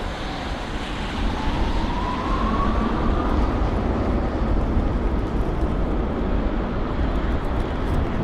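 An Airbus A380 airliner arrives at London Heathrow during a storm, its engines a loud, broad roar with a slowly shifting whine over heavy rumble, with wind noise around it.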